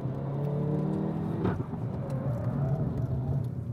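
Tuned Hyundai i30 N with a new aftermarket exhaust system, its engine pulling steadily with a droning, rising tone and a brief shift-like break midway, heard close from inside the car.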